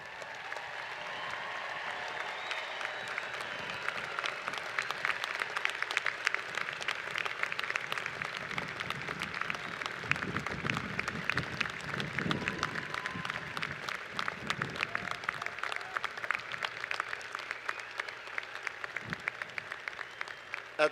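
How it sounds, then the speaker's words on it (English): At a university graduation ceremony, an audience applauds the graduates in a long, sustained burst of clapping that stays even and dense from start to finish, with no voices standing out. "I ask the audience to stand with me and applaud and encourage our graduates."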